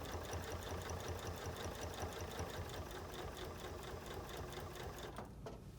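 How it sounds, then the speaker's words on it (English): A sewing machine with a walking foot stitches binding onto a quilt, a close, steady rapid whirring hum with even needle clatter that runs without pause and eases off at the very end. "So I can just go ahead and start stitching with my walking foot. And I am stitching along."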